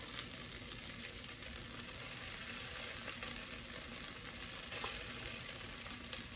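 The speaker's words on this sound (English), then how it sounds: "I'm going back in with the meat now" Meat sizzles and fries in a pan with a steady, dense crackle and hiss that stays close and even throughout, with no voices.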